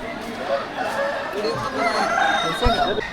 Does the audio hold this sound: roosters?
yes